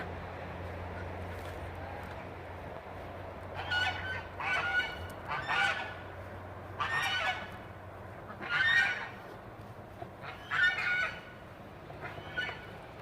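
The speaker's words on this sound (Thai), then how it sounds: "นี่คือเป็ด แล้วก็ไก่ที่เราเลี้ยงไว้ กินไข่นะคะ" Farm ducks and chickens kept for eggs call in a backyard garden, with a series of loud honking, quacking calls in irregular bursts over a low background hum.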